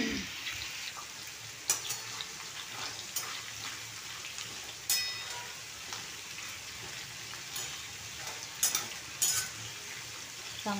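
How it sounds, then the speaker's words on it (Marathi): Beans roasting in hot oil in a pan, a steady sizzle with scattered scrapes and clicks of a spoon stirring, close and fairly quiet throughout. "हे शेंगा आहेत ना चांगल्या तेलामध्ये भाजून घ्यायचं."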